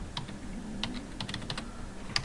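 Fingers tap out a message on a computer keyboard for a local chat in a school classroom, with quiet, irregular clusters of key clicks and short pauses between them.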